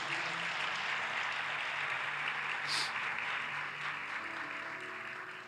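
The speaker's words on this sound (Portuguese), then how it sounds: "Você pode aplaudir o Senhor Jesus?" A church congregation claps together during a Sunday morning service, sustained broadband applause lasting the whole stretch and easing slightly toward the end.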